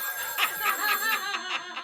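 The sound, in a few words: telephone ringing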